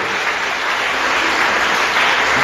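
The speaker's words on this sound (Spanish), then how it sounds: "Denle un aplauso al Señor Jesús." Church congregation clapping together in praise, a dense, steady wash of applause that fills the whole moment at full volume with no voices on top.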